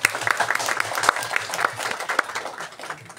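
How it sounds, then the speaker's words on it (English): Audience applause at a book talk for the Dallergut Dream Department novels, a dense wash of many hands clapping that holds steady for a few seconds and then begins to thin. "let's give a warm round of applause"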